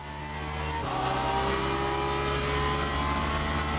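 Porsche race car in the sim racer Le Mans Ultimate at Bahrain's outer circuit, its engine droning steady and loud throughout, pitch dipping briefly near the start then holding a sustained high-revving tone.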